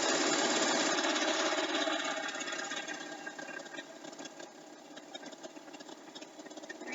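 A sewing machine stitching through a quilt, running with a rapid mechanical whir that starts strong and then eases into a lighter, chattering rhythm, close by and with no talking.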